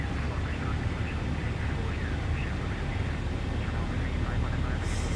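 Boeing 737 engines in X-Plane 12 hold a steady, loud roar with a broad rumble during a stormy approach to Edinburgh, continuing evenly throughout with no clear rise in power.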